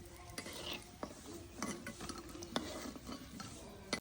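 Cabbage fritters fry in a pan of oil with a low, steady sizzle, broken by repeated light clinks and scrapes of a spatula stirring and turning them.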